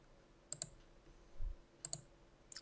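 Computer mouse clicks while navigating Microsoft Outlook 2013 on a desktop, heard as three quick, sharp double clicks spaced about a second apart over a faint, quiet room background.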